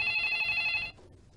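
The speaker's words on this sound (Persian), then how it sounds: "من میرم تلفن رو جواب بدم." A telephone bell rings in a scene from an Iranian comedy series: one bright, fairly loud ring lasting under a second, then it cuts off into quiet room tone.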